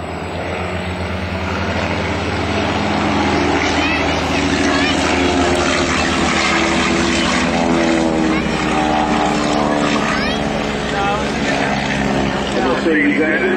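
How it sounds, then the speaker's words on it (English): A Fokker D-7 World War I biplane with a water-cooled Mercedes engine flies at an Old Rhinebeck airshow, its engine droning loud and steady throughout while an announcer talks over it. "Mercedes engine on the D-7,"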